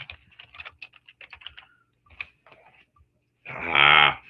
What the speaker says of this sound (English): My typing is as joyous as ever.